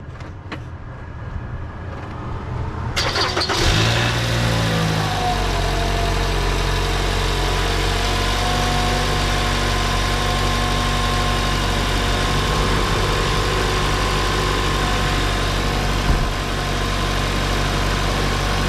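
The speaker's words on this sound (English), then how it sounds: "I'm gonna fire up the engine" A 2012-2016 Toyota Scion tC engine cranks and fires after a few seconds of quiet, then settles into a steady, loud idle that hums on for the rest of the time.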